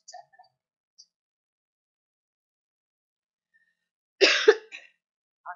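A single short cough from a preacher during a church service bursts out of near silence, followed by a faint tick or two.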